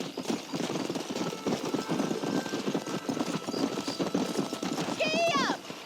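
Rapid clip-clop of horse hooves galloping in Red Dead Redemption 2, a steady pounding rhythm throughout, with voices talking over it and a horse whinny near the end.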